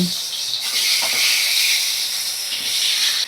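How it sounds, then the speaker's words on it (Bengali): Pomfret fish sizzling in hot oil in a wok, a loud steady hiss and crackle that continues without a break. "গরম তেলের মধ্যে দিয়ে দিলাম পমফ্রেট মাছগুলো।"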